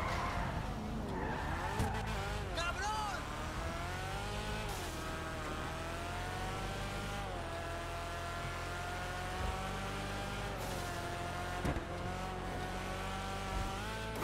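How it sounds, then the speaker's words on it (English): A car in Grand Theft Auto V revs hard with a droning engine and exhaust note rising and falling while tires squeal and skid repeatedly, loud and continuous with no talk. "I really do like the engine sound and the exhaust sound."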